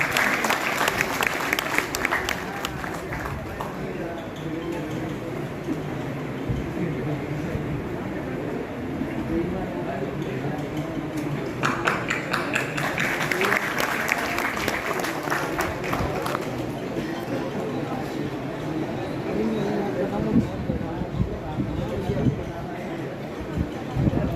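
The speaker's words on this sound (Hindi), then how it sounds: "जोरदार तालियों से स्वागत" Applause at a bar association oath ceremony in Agra, a continuous, moderately distant wash of clapping hands from a seated audience, rising in spots, with some voices underneath.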